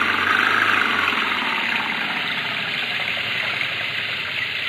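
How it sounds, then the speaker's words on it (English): A car engine roars steadily for several seconds, a dense rumbling drone at constant strength, close by with no voices. "Give it the gun, George."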